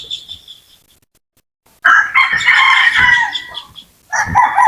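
Native chickens nearby, with loud, close clucking and a drawn-out rooster crow after a short quiet pause, then more clucking bursts.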